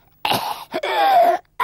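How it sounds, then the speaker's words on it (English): A man coughs harshly twice, a short rough burst followed by a longer raspy, strained cough, close by with no talking. "and he was coughing"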